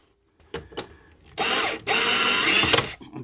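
A power drill removes screws from camper kitchen cabinets, with a few small clicks and knocks, then two loud whirring bursts of about half a second and a full second, close by.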